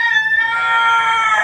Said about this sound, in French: C'est le coq qui chante.